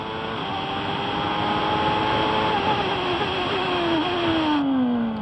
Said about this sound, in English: Hear that familiar metallic Ford V8 engine noise.